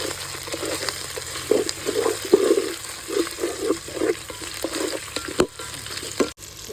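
Prawns with garlic paste and green chillies frying in a pan, with a steady loud sizzle and rhythmic stirring scrapes, close up.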